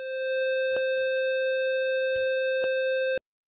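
A pure sine tone pushed through distortion, giving a steady, loud, buzzy note thick with harmonics that holds for about three seconds and then cuts off abruptly. A few faint clicks sit under it.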